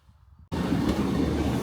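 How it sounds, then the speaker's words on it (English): A train pulls into a rural station and stops, a loud rumbling, rattling roar that cuts in abruptly after a brief quiet stretch and then holds steady. "Yay, the train's stopping for me."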